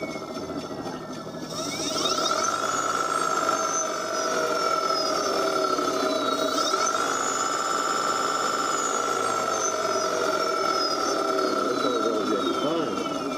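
A QSMotor-powered M2 prototype electric scooter motor running with the power raised, a whine that climbs in pitch, dips and rises again, then holds high and steady over a low hum.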